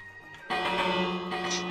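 A small bell rings in Minecraft, a sustained metallic tone with ringing overtones that starts sharply about halfway through and hangs on, with a faint chime near the end.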